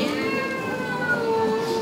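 A female singer imitates a cat's meow, giving a sustained, wavering mewing cry that carries through the whole short stretch at steady loudness.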